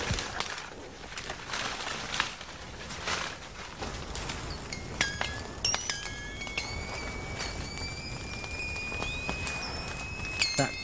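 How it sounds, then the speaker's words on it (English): Tropical wasps in a smoked nest give off scattered sharp pings and pops, irregular and fairly close, over a steady outdoor hiss with faint bird and rustling sounds. "That pinging noise is the wasps exploding."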